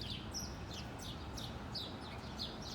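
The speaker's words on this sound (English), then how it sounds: "What the fuck? 2 birds. They fighting." Two birds fight outdoors, giving repeated quick high chirps and squabbling calls in bursts over a steady broadband background hum, fairly faint and with no talk.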